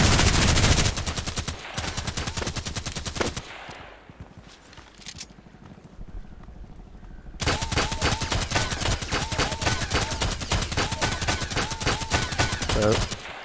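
Rapid automatic gunfire in the shooter game Contract Wars, loud dense bursts at the start, a quieter lull in the middle, then a long sustained stream of close rapid shots.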